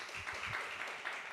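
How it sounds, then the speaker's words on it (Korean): A seminar audience claps in thanks after an hour-long lecture, a faint, uneven patter of hands with a few low voice-like murmurs near the start. "다시 한번 감사의 박수 드리도록"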